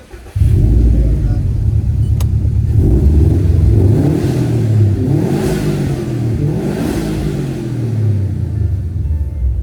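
A car engine idles and revs after a jump start, a loud low rumble that swells and falls through the whole stretch with no talk over it.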